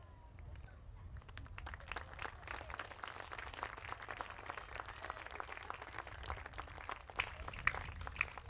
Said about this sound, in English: Round of applause just issued from the fans as Logan Hawkins gets up after a long delay out there on the field